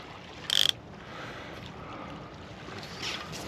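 A sea-fishing reel's ratchet clicker whirs in one quick burst of rapid clicks, then a fainter brief buzz later, outdoors on the Bristol Channel shore with steady wind and wave noise around it.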